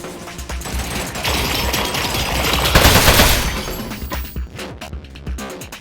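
A turret in the Aperture Desk Job video game firing its gun, a loud, dense rattling burst of rapid shots that swells to a peak midway, then breaks into scattered impacts and fades.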